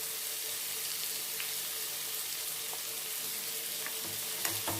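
Curry leaves and onion frying in a pan for a drumstick fry, a steady low sizzle running throughout with faint clinks and stirring scrapes near the end, no talking.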